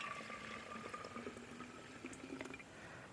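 A pest-control liquid is poured into a container, making a faint, continuous trickling and gurgling of liquid over about three seconds, with no talk.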